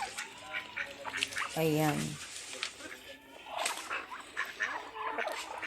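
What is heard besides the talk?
ducks quacking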